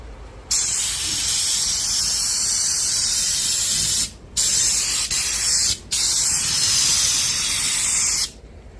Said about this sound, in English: Now the gun goes right on the bottle, air right to the gun, and start spraying.